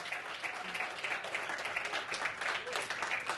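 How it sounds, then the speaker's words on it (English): An audience applauds a keynote speaker, dense sustained clapping from a large crowd filling the room, with a voice faintly audible underneath. "Let's give her an extended round of applause."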